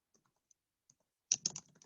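Quick burst of typing on a computer keyboard after a near-silent stretch with a few isolated clicks, the keystrokes close and crisp in a rapid cluster toward the end.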